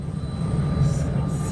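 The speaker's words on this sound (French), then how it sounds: "L'avion va décoller." A private chartered jet about to take off, a steady, close engine hum with a thin high whine running through it, holding level without pause.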